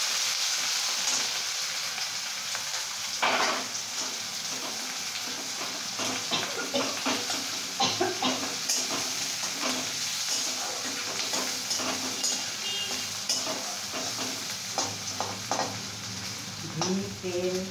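Green chillies, garam masala and onion sizzle steadily in hot ghee and oil for a Kashmiri pulao, with a constant loud frying hiss broken by scattered clicks of stirring and spoon scrapes against the pan.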